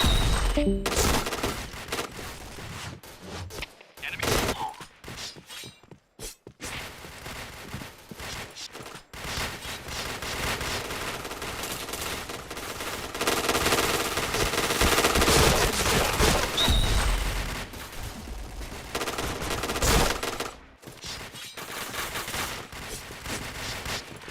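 Weapons fire in the online shooter game Point Blank: loud, dense bursts of rapid automatic shots that run almost continuously, with a few brief pauses between volleys.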